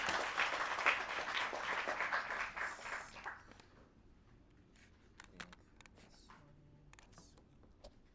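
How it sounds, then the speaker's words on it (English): A round of applause from a seminar audience at a data and AI agents meetup, dense clapping for about three seconds that then thins out to scattered claps and faint rustling. "Let's give a round of applause to Tracy."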